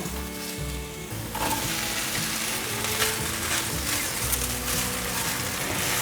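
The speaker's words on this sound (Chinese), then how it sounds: "继续翻炒， 炒至大豆酥肉片上有点微焦的感觉了" Soy protein slices and black fungus are stir-fried in a wok with mushrooms, a loud continuous sizzle with scraping and clattering of the spatula as the ingredients are tossed.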